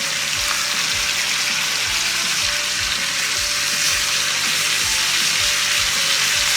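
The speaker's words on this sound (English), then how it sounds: "We'll let that butter cook down, sizzle up." A ribeye steak sizzles and crackles in butter in a cast iron skillet, a loud, continuous hiss with fine popping close up and no talking.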